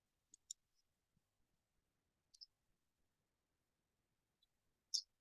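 A computer mouse clicks a few times on a Windows PC, sharp faint taps spaced apart in a quiet room with no talking.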